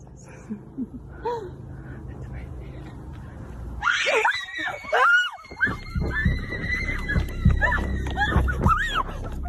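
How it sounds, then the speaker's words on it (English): A sudden, loud high-pitched scream rings out after quiet murmuring, followed by several more shrill cries and frantic shouting close by. "The group hears a terrifying scream"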